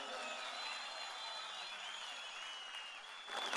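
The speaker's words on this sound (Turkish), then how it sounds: "bir alkışlasın duyayım" A large outdoor political rally crowd in Adana's Seyhan district applauds and cheers, a distant steady roar with whistles, swelling louder near the end.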